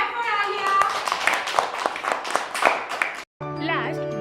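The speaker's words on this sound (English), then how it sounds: "Clap for Alia." Classroom clapping for a child who won a word game, a short burst of many hands under a speaking voice, ending abruptly before a tone plays.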